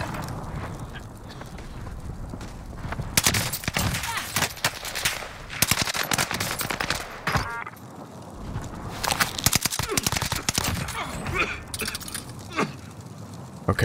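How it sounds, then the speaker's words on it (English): Repeated three-round bursts from a burst-fire rifle in a Warzone match crackle loudly in close, clustered volleys amid other gunfire and game noise, with a player talking throughout. "I hate this three-round burst gun that people use."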